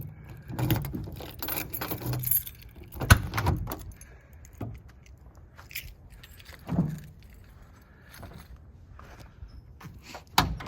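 Rear door of a diesel Chevrolet Suburban on 38-inch tires being worked open amid jangling keys, rustles and clunks, with a scattering of soft knocks and a sharper latch sound, fairly close and quiet.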